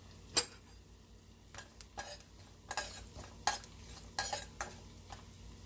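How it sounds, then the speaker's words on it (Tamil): Whole spices, including bay leaf, cinnamon, cloves, cardamom and cumin, fry in hot oil for a Tamil pepper chicken, with a faint sizzle under scattered metal clinks and scrapes of a spoon stirring in the pan. "எண்ணெய் கொஞ்சம் சூடானோன்னு நம்ம எடுத்து வச்சுருக்க பே லீஃப், பட்டை, கிராம்பு, ஏலக்காய்,"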